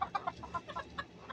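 Chickens on a small farm cluck in a quick series of short, soft calls spaced a few tenths of a second apart, fairly faint with no talking.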